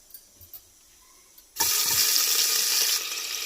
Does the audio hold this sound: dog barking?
no